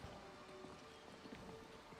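Faint horse hooves clip-clop in the video game Skyrim VR, soft and distant under a steady hiss of game ambience.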